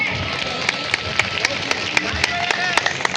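Rhythmic hand claps at a Sant Pipaji Maharaj religious procession, sharp evenly spaced claps over a steady murmur of crowd noise.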